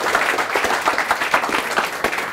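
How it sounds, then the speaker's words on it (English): An audience at a sales seminar claps, a brief dense round of applause from a roomful of people, steady and even throughout. "Give a round of applause for that."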